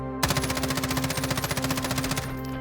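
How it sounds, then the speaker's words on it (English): Kilo and M13 rifles in Modern Warfare fire one rapid sustained burst of automatic gunfire lasting about two seconds, loud and close, with a brief tail after it stops. "Let the shooting begin."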